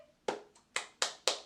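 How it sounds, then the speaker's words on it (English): A single person claps slowly, four or five crisp, separate hand claps spaced roughly a quarter second apart, close and alone in a quiet room. "Round of applause."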